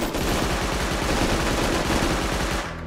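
Sustained automatic SMG fire in the survival shooter Rust Unturned during close PvP combat, a rapid, steady stream of loud shots running nearly three seconds before cutting off.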